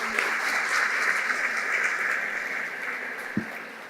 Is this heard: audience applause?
yes